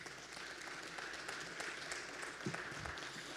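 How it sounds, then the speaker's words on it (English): Applause from the audience at the 2022 West Virginia Press Association Legislative Breakfast: steady, fairly faint clapping from the room, with a soft hiss of many hands running through the whole stretch. "Round of applause for Delegate Scaff, please."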